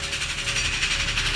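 A train drawing near along a railroad, a steady broad rumble and hiss with faint tonal hum, loud and continuous throughout, no voices.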